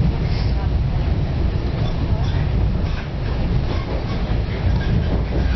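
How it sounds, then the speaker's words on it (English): A commuter train in the San Francisco area rolls along the tracks with a steady rumbling roar and faint rhythmic clatter, heard from inside the carriage. "heading off to the city on the train finally"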